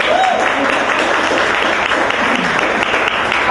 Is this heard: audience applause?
yes